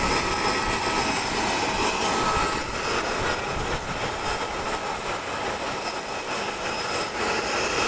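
Steady loud roar of aircraft engines heard from inside a packed airplane cabin while passengers board, a continuous broadband drone with no talk.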